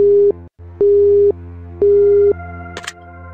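A telephone busy tone sounds in the video game Killer Bear after a call hangs up: three loud, evenly spaced beeps with short gaps between them, followed by a faint rustle and a brief click.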